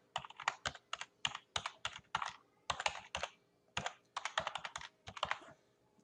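Rapid keystrokes on a computer keyboard come in quick bursts with short pauses between them, crisp and close in a quiet room.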